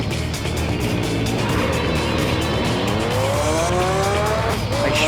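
A race car spins out in Gran Turismo 3, its engine roaring steadily while tires squeal loudly, the pitch sliding upward as the car slews around, with no voices over it.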